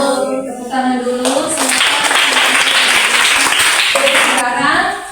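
A school class claps hands after a group discussion, steady, fairly loud applause lasting several seconds, with a teacher's voice before and after it.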